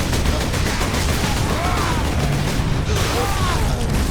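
Dense, continuous enemy gunfire in the Warhammer 40,000 Space Marine video game, a loud unbroken battle din of rapid shots and crashes filling the whole stretch.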